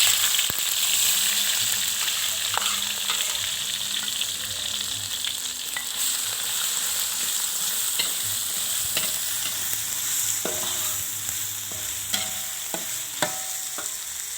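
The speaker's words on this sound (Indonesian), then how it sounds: "Kayu manis cuma digoreng aja, nggak usah ditumis" Cinnamon sticks frying in hot oil in a pan for a jackfruit curry, with a loud, continuous sizzle and crackle throughout and occasional light clicks and scrapes of a utensil, close up.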